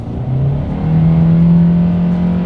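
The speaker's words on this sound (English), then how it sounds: "Dang, winding out these RPMs." A 2021 Hyundai Accent engine revs hard while accelerating, a loud steady drone that climbs in pitch, briefly drops, then holds high and strained, heard from inside the car.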